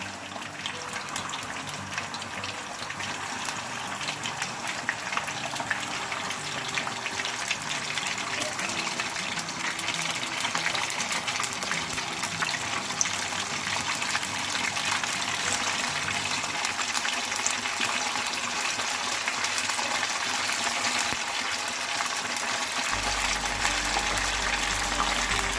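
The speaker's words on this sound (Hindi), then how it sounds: "अब ऑयल गर्म हो चुका है। अब मैं चिकन डाल रही हूँ इसमें।" Chicken pieces lowered into hot oil for a Coca-Cola chicken recipe, a loud, continuous crackling sizzle of shallow half-frying that stays close and steady for the whole stretch, with faint talk occasionally underneath.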